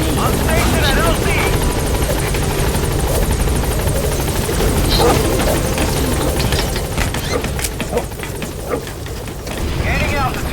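Helicopter in Metal Gear Solid 5: The Phantom Pain arriving at a landing zone, a loud steady rotor drone throughout with game effects and radio voice lines over it.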